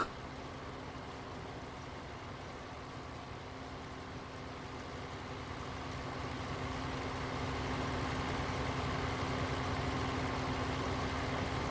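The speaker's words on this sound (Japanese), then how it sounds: "このぐらいのエンジン音の聞いてるのがいい" A vehicle engine in Farming Simulator 19 runs with a steady, low droning hum, growing a little louder partway through and continuing without pause.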